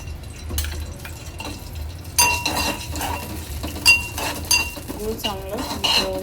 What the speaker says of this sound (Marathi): गूळ चांगलं मिसळून घ्यायचं आहे।